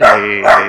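Two loud, close dog barks in quick succession, each full and resonant, in an orchid garden in central Mexico.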